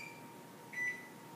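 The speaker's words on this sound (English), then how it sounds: "Set the timer for 10 minutes." A single short electronic beep from an oven panel as its timer is set, clear but quiet against faint room hum.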